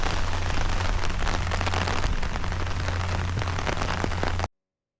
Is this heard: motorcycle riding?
no